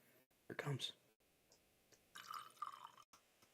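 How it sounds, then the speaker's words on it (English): Whiskey pours into a glass right beside the microphone: a close, quiet splash, then a burst of trickling, dripping liquid, with soft breathy noises around it. "We'll do a little bit of a pour right by the mic."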